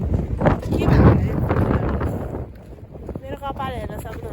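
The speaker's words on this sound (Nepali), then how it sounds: "हावा चाहिँ ओभरै चल्छ यहाँ डाँडामा" Strong wind rumbles across the microphone on a hilltop ridge, loud gusty buffeting that swells and eases, with someone talking over it.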